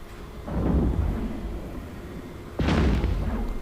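Implant bomb going off in the space game EVE Echoes near a Megathron ship: two deep rumbling booms, the second sharper and louder, over a steady low drone, with no speech.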